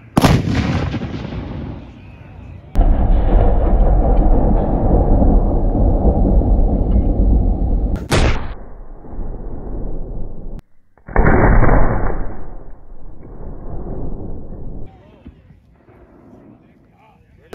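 A Civil War Parrott rifle cannon firing live, with several heavy booming blasts followed by long rumbling echoes, with people talking in between.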